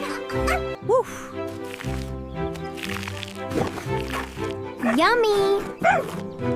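A cartoon dog's bark, voiced by a person imitating a woof, comes as a few short, close, loud yaps amid a busy children's cartoon soundtrack with music and chatter.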